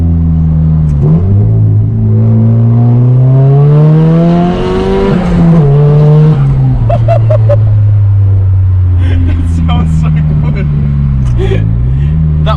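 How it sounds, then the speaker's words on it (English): A Nissan S15 engine with a new exhaust manifold revs hard and close in a second-gear pull, pitch climbing steadily, dipping at the shift, then rising again under a loud, droning exhaust. "we're going to do a second gear pull now that it stopped smoking a little bit"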